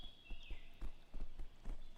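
A horse in a video game clip-clops along, its hooves striking in a quick, regular rhythm of sharp, close knocks under a faint high whine, with no speech.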